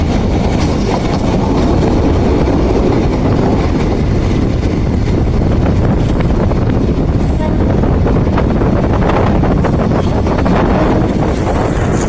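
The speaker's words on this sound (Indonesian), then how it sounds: "Kereta api komuter lain" A commuter train passes close by on an Indonesian railway, with a steady rumbling roar of wheels and carriages lasting throughout, some faint clicking rail rhythm and wind buffeting the microphone.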